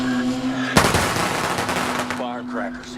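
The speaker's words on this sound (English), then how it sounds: "Firecrackers. Distraction." A burst of firecrackers from The Walking Dead episode 'The Next World', set off as a distraction: a sudden loud crack starts a dense rattling volley of pops lasting more than a second, with talk and background sound underneath.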